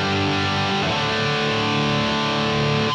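A distorted electric guitar sustains a dense chord through a Line 6 POD Express with the distortion effect on, played loud and continuous for about three seconds with no talking.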